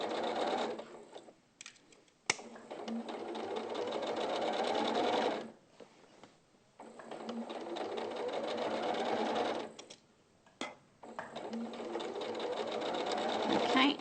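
A sewing machine stitching a sleeve seam, running in several bursts of fast, even whirring separated by short pauses and stops, fairly quiet and close.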